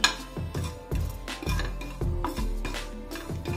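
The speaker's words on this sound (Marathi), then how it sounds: "बारीक गॅसवर आपण भाजून घेणार आहोत खसखस" Poppy seeds dry-roasted in a pan over a low gas flame, stirred with rhythmic scraping strokes of a spoon against the metal, close by and repeating roughly every half second.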